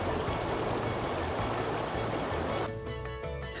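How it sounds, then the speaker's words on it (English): A cold mountain stream rushes steadily beside a riverside overland campsite, its broadband wash close and constant throughout, with a slight change in texture near the end. "Lee and I filled up a couple of containers down by the stream"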